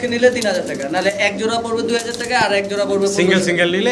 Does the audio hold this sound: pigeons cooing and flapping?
yes